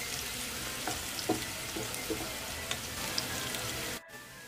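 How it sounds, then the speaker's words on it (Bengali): Chopped onions frying in a pan for chicken curry, a steady close sizzle with faint stirring scrapes and small pops throughout. "এবার এই পেঁয়াজ কুচানোগুলোকেও একটু লাল করে ভেজে নেব।"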